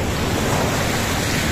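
Ocean waves wash steadily onto a beach in Ilocos Norte, a continuous broadband surf roar with some wind rumble on the microphone, with no pauses and no voices.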